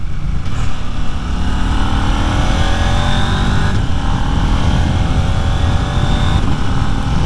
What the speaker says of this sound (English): And now I can, just like that, I can quick shift down.